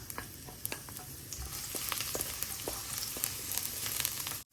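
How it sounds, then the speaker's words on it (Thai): Garlic sizzles in hot vegetable oil for a Korat-style stir-fried rice noodle dish, a dense, steady crackle with scattered sharp pops running close and loud throughout before cutting off abruptly at the end. "เรามาใส่น้ำมันลงไปค่ะ น้ำมันพืชนะคะ ประมาณนี้นะคะ กระเทียมลงไปค่ะ"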